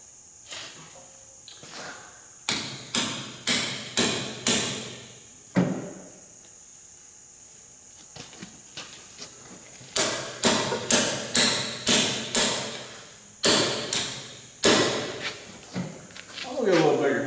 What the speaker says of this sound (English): It shows on the packages of them tapping with a little claw hammer, but I was trying a 2-pound brass hammer,